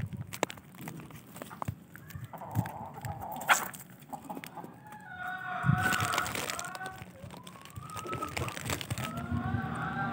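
Backyard rooster and hens cluck and call at close range, with repeated short clucks and a few longer crowing-like calls rising over a busy, rustling background; no speech.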